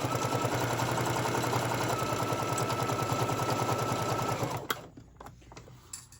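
A sewing machine chain pieces fabric tote bag seams, its needle running in a steady rapid loud stitching rhythm for several seconds before stopping, followed by a few soft handling knocks.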